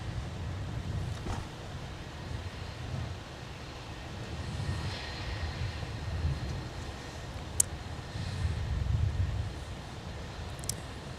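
A heavy jet airliner bound for Amsterdam rolls for winter takeoff at Minneapolis airport, making a low, steady engine roar at a distance. Wind noise buffets the microphone, and a couple of brief clicks cut in.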